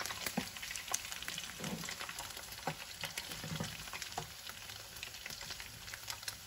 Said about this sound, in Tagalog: Nagmamantika na po, kaya pwede nating alisin yung mantika.